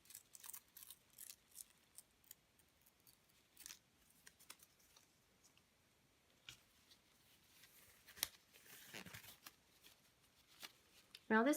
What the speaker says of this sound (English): finish tearing that paper away